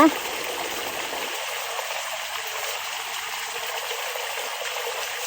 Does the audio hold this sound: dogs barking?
no